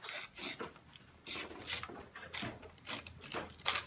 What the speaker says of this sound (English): Is it tearing? It sounds like it's tearing.